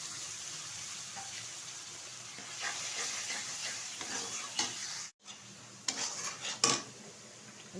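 A ground paste of cumin, chilli, ginger and garlic fries with onion in oil for a tilapia curry, making a soft continuous sizzle broken by spatula scrapes and clinks against the pan, with a brief sudden pause.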